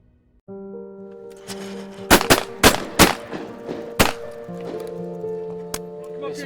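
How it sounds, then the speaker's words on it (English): Shotguns fire at clay targets during skeet shooting at a gala outdoors, a cluster of sharp loud reports in quick succession followed by a single later shot, over steady crowd chatter and background music. "Some skeet shooting, having a great time, shooting at clays."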